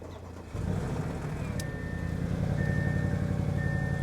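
Audi RS7 engine starting: a sudden rise into a steady idle rumble, with thin electronic chimes sounding intermittently over the running engine.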